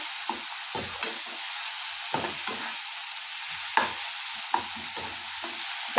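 Tomato masala for soya fried rice frying in a pan and being stirred, with a steady sizzle and a run of scraping spoon strokes at irregular intervals, close and fairly loud, no talking.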